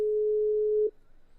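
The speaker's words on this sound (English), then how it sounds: "Oh, it's ringing." A single steady telephone ringback tone on a call hums evenly for under a second and then cuts off, leaving faint background noise.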